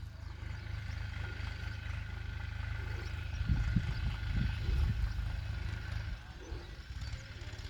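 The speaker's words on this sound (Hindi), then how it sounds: "तो भाई देखो ये ट्रैक्टर चल रहा है इसमें।" A tractor runs in a sugarcane field with a hydraulic rotavator attached, a steady low engine drone with a rougher, louder stretch midway, heard from a moderate distance.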